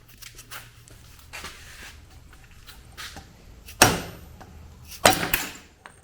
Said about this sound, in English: We just knocked the bearing and the seal out.